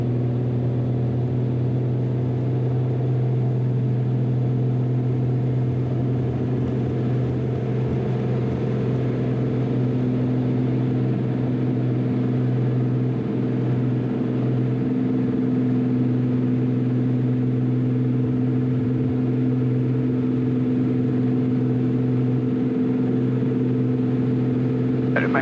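The engine of a 2008 Cessna 400 single-engine aircraft runs at full power in a steady, loud, droning hum with strong low tones, heard continuously from inside the cockpit without speech.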